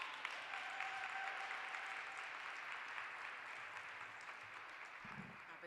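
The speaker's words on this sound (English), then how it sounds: "let's give a round of applause for our next act" A City Hall audience at an International Women's Day celebration applauds for the next act, a faint, distant wash of steady clapping that slowly tapers off.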